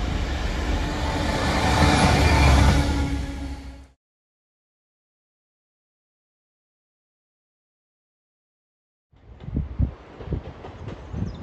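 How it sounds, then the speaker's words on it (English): A Class 170 diesel unit on a Matlock to Nottingham service passes at Ambergate Junction, a loud broadband rumble for about four seconds, then silence, then a quieter, rougher rumble returning near the end. "Class 170 on a Matlock to Nottingham service, taking the main line at AmberGate Junction and into Derby."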